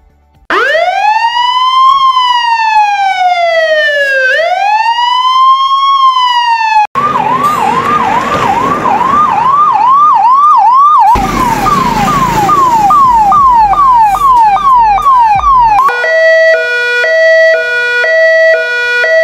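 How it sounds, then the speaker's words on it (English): Loud ambulance sirens cycling through several patterns: slow rising wail, fast yelp, rapid warble, then a two-tone hi-lo, close and continuous. "When an emergency vehicle with siren and lights on approaches."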